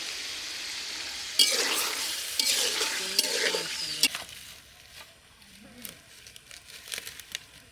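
Freshly caught local pond fish frying in a pan with oil, a bright sizzle and spatter breaking out loudly, with scraping stirs and crackles, then settling into a quieter hiss with occasional pops.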